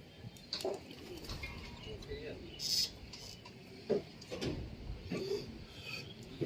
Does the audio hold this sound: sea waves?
no